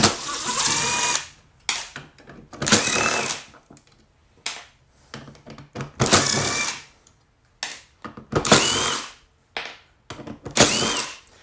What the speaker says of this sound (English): Let's go ahead and take all these screws out.